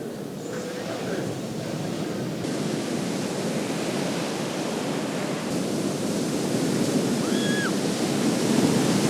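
Ocean waves wash onto a beach near Paraty, Brazil, as a continuous broad roar of surf with some wind noise, steady and close, while a faint brief tone sounds near the end.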